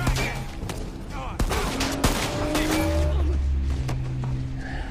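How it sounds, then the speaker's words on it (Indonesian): Gunfire crackles through a film shootout between gangsters, with scattered sharp shots over dense action-scene noise and a low engine-like rumble, fairly loud and continuous. "Baku tembak pun akhirnya terjadi"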